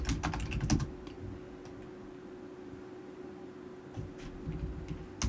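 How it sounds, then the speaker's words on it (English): Rapid typing on a computer keyboard, a flurry of close, crisp key clicks at the start, a lull, then more bursts of keystrokes over a steady low hum. "I am typing way too fast"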